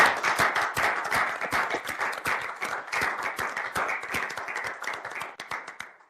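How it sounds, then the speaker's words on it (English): Steady applause from a roomful of people at a university board of regents meeting, dense overlapping claps holding for several seconds before thinning out. "I'd ask all of our board to give a round of applause to our presenters."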